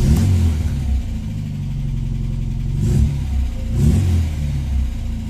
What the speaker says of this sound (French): On pourra entendre un petit bruit de crécelle, pas d'inquiétude, c'est normal, c'est assez typique de ces moteurs Kent Valencia de chez Ford